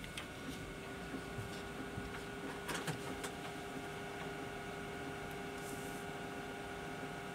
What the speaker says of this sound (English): I don't know what's happening to the printer.